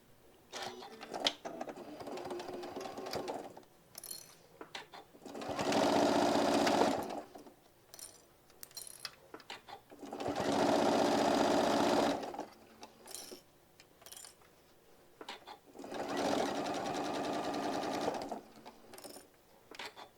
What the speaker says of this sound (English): Stitching the other side 1/8 of an inch